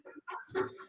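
A rooster crows in a single short burst, with clucking chicken calls just before it, fairly close and loud, standing alone with no talk over it.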